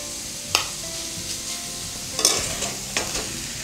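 Rice is stirred into a frying beetroot mixture in a pan, a steady sizzle broken by a few distinct spoon scrapes and knocks, close and even, with no talking.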